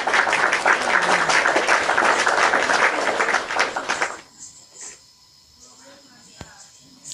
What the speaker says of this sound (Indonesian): Tepuk tangan buat Mafia yang cantik dan manis.